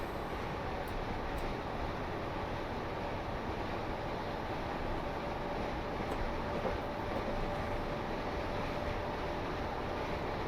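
Electric multiple unit running on the 750-volt DC third-rail Lymington Branch in Train Simulator 2021, a steady, continuous rumble of motors and wheels on rails with a faint whine, holding level throughout with no talking.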